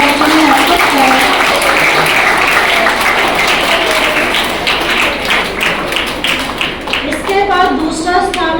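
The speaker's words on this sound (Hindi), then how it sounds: "तालियां बजा दीजिए" An audience claps steadily through a school prize ceremony at a Khalsa Public School vacation course programme, dense sustained applause with a voice talking over it.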